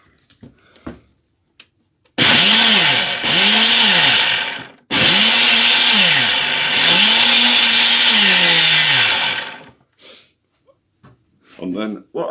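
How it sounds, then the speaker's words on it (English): Blender whirring through sweet potato and chorizo soup with added stock, two loud sustained bursts with a brief pause between, the motor pitch dipping and rising as it churns. "And then give it another quick blast in the blender."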